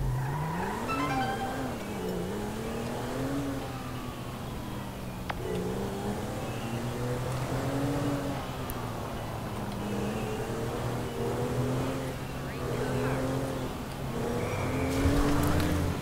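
In-game car driving in GTA 5: an engine drones and revs with shifting pitch, joined by tire skids and squeals, fairly quiet and continuous with no speech.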